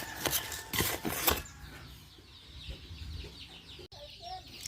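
Chickens and chicks cluck and murmur in a farmyard while their feed is mixed with azolla, with rustling and handling noises mixed in; the bird sounds are moderate and close, no crowing.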